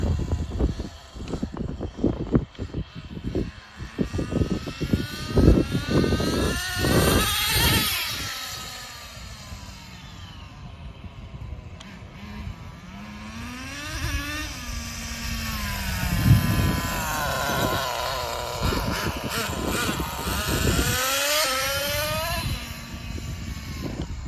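A nitro HPI Racing RS4 3 Evo RC car engine revving at night, its buzzing whine rising and falling as it shifts, loud and close, with sharp throttle blips early and sustained high-pitched runs after.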